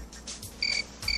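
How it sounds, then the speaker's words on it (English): Crickets chirp in short, bright trills, two bursts separated by a brief gap, over a faint ambient hum. "crickets."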